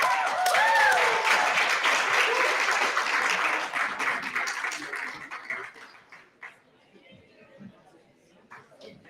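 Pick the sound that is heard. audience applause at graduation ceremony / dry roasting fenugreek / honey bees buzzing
audience applause at graduation ceremony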